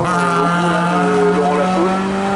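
A Porsche Cup race car brakes hard at the 2022 Thereval Agneaux hillclimb, its engine roaring loud and close with a steady harmonic whine that shifts in pitch as it slows.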